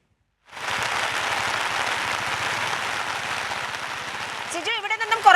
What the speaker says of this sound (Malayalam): കാലാവസ്ഥ അതിരൂക്ഷമാണ് കനത്ത മഴയാണ് പെയ്യുന്നത്